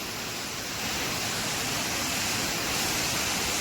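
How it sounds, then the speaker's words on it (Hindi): Jonha waterfall near Ranchi in Jharkhand pours in a steady, full broadband roar of rushing water, loud and unbroken throughout, with no voices. "आपको दिख रही होगी एक झारखंड की खूबसूरत वाटरफॉल, जोनाहा वाटरफॉल।"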